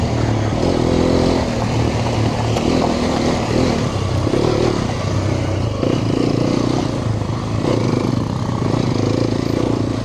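A Hero Xpulse 210 motorcycle engine pulling steadily as it accelerates on the move, a loud continuous drone with wind rush and slight rises in pitch, close throughout with no talk over it.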